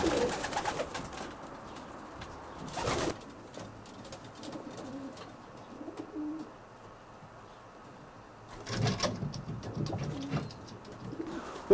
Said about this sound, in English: These are Brian's stock pigeons